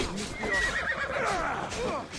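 Horses whinny and hooves clatter amid a busy battle scene in the Assassin's Creed Odyssey video game, loud and close, with someone talking over it.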